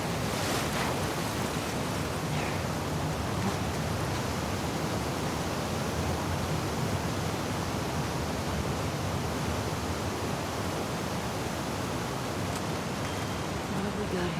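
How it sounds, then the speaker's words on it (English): Ocean waves in The Last of Us Part 2 during a swimming section toward an aquarium, heard as a loud, steady roar of surf and rushing water with no clear breaks, filling the whole stretch. "the section swimming to the aquarium as Ellie when you were avoiding the waves."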